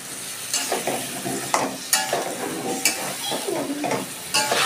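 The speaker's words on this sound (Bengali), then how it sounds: "আলুটাও একটু কষিয়ে নিচ্ছি" Potatoes frying with cumin powder, Kashmiri chilli powder and turmeric in a pan for a rohu fish curry, a steady loud sizzle broken by repeated scraping stirs of a spoon against the pan, no talking.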